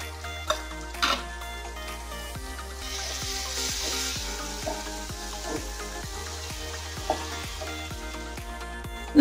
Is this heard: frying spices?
yes